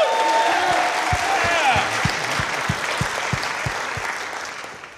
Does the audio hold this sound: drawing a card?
no